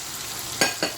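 Tomato fish curry with kasuri methi is stirred in a hot pan, giving a steady sizzle and two quick scraping stirs near the end.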